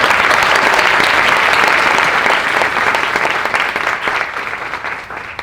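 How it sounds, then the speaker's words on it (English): Audience applause for two foundations, the R&S Kane Foundation and the Fox Foundation, at a 2024 grantee showcase: dense, steady clapping from a large crowd that holds strong, then slowly thins and fades toward the end. "Please join me in applauding them."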